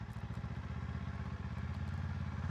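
A Kawasaki KLE 500 motorcycle rolls along slowly, its engine giving a steady low, even throbbing pulse close by, with no talking.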